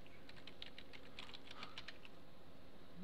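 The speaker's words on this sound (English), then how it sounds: "so here is where we will type" Fingers typing on a computer keyboard at a Windows PC, a quick cluster of light key taps over steady background hum, faint and close, with no voices.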